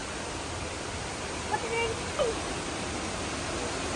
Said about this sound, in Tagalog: Tignan nyo yung falls, ayun o.